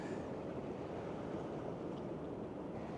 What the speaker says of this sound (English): I can hear that sea on the other side, like smashing against the right hand side of this skier.